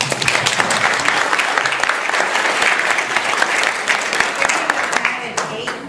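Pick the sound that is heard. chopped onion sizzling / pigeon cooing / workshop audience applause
workshop audience applause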